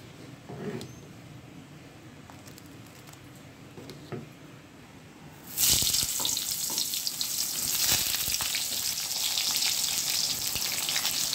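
Eggplant slices seasoned with turmeric, salt and chili powder hit hot oil in a wok, bursting into a loud, steady sizzle after about five and a half seconds of quiet kitchen sounds, continuing strongly to the end.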